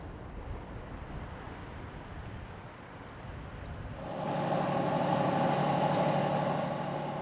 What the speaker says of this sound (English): Down below, Callum has put out to sea.